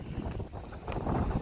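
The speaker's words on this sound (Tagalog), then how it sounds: "malakas nga po masyado yung hangin" Strong wind rushes and buffets across an open area where racing pigeons are about to be released, a rough, gusting roar close to the microphone.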